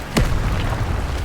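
A fire spell cast in a Hogwarts video game bursts with a single sharp whoosh-and-pop near the start, then gives way to a low rumbling roar that carries steadily to the end.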